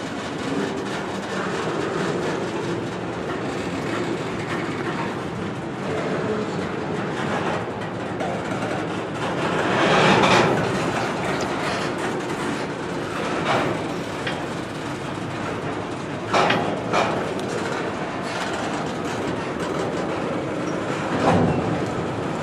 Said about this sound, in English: As the rear of train 170 came closer, it then came to a stop.